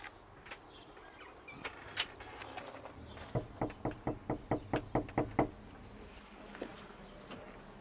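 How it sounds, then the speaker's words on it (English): Knocks on a front door: scattered taps early on, then a loud burst of about ten sharp, evenly spaced raps close by, followed by a lone knock and quiet. "we're going to knock on his front door"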